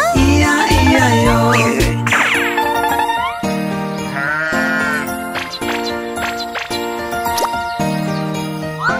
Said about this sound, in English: With a baba here and a baba there, here a baba, there a baba, everywhere a baba.